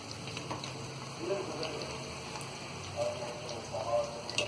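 Cauliflower florets frying in oil in a pan over a medium-low gas flame, a steady soft crackle and sizzle throughout with a few brighter pops, close by.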